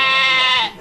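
A single sheep gives one brief, loud, bright bleat close by. The call holds steady and then cuts off abruptly.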